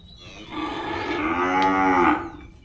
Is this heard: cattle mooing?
yes